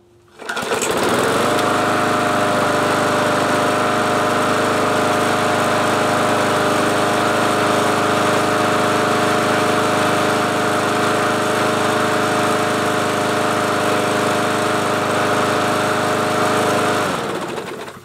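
A free Bolens lawn mower with a freshly cleaned carburetor, new gasket, new oil and new gas starts after priming, catching almost at once and then running loud and steady at high speed until it cuts off at the end.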